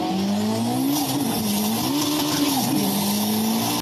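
A toy RC Lamborghini runs along a dirt road, its electric motor giving a loud, close, steady whine that rises and dips in pitch as it speeds up and slows, with no voices heard.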